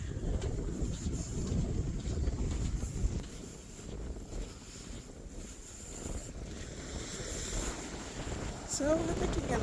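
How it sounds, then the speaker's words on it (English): Strong wind blowing across a beach in Lagos in Portugal's Algarve, a steady loud rumble of gusts buffeting the microphone for the whole stretch, with a faint voice briefly near the end. "so it's very windy"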